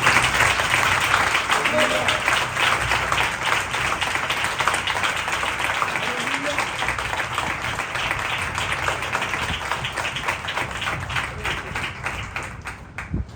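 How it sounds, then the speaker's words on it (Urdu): Church congregation at a Sunday sermon breaks into loud, sustained applause, a dense patter of many hands clapping close by that continues throughout and fades slightly toward the end. "ہم زوردار تالیاں"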